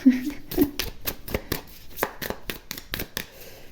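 Tarot cards shuffled and handled to draw a third card, a run of soft papery riffles and taps in quick bursts close by, with brief murmured speech near the start.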